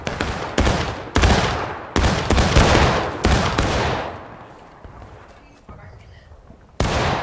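Musket volleys crack out in a Civil War battle video game, several loud broadband shots in quick succession during the first half, fading into quieter battlefield rumble before another sharp shot near the end; voices speak underneath.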